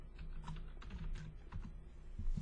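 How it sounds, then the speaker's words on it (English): Keys clatter on a computer keyboard in a quick, uneven run of close, soft taps, with no one speaking. "I just typed in an incorrect symbol"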